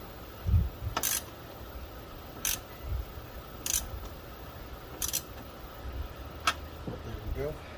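A ratchet with a deep socket tightens a part under a Ford F150, giving short bursts of sharp clicking at close range, spaced a second or so apart, alongside light handling noises and some talking.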